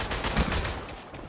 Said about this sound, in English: There is an MG.